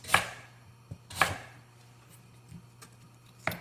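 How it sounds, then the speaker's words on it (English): A knife cuts through an ingredient into half-inch slices on a cutting board for shrimp curry, giving two strong close chops and a few lighter taps with quiet gaps between them. "I'm going to cut it in about half-inch slices."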